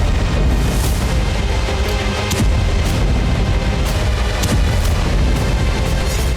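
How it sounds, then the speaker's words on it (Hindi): Explosions from Russian drone and missile strikes on Ukrainian cities, heard as a loud continuous rumble with repeated sharp booms and bursts scattered across the clip. "ज़ेलेंस्की के होम टाउन में भी रूसी ड्रोन गिरने से कई धमाके हुए।"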